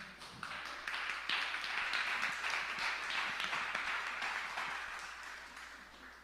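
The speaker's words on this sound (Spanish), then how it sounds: "recíbala con un fuerte aplauso" A church congregation greets a pastoral speaker with applause: a soft swell of many hands clapping rises after a brief pause, holds steadily, then gradually thins out, faint and somewhat distant.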